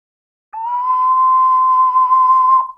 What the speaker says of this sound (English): you blow into the ocarina